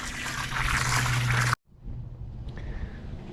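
Water gushes steadily into a pot holding crawfish for rinsing, a loud splashing fill with a low resonant hum that cuts off abruptly, followed by quieter trickling and sloshing.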